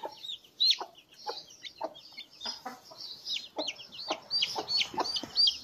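A small colored chick cheeps in a rapid string of high, thin peeps, close and fairly loud, with quiet clucking in the background.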